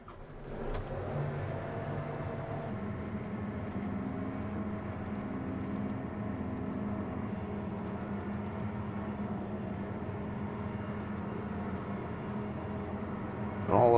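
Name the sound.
combine harvester driven into the shed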